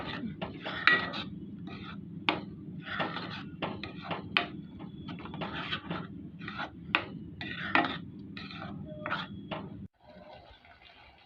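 Dum aloo masala gravy with tomato puree is stirred in a pan, giving a close, rhythmic run of metal spoon scrapes and clinks against the pan that stops abruptly near the end.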